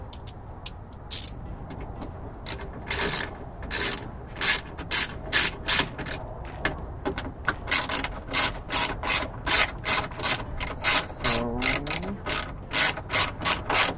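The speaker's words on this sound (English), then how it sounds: "And then we just start tightening everything down." A ratchet tightening bolts inside a Honda car door clicks in quick repeated bursts, the clicking growing more regular and rhythmic, close by in a quiet space.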